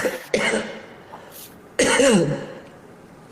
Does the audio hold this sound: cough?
yes